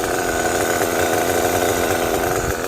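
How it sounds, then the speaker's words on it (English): Kyosho USA-1 Nitro V2 RC truck's nitro engine at full throttle: a loud, steady, high-pitched buzzing whine held without a break, close up and alone. "That is an awesome engine."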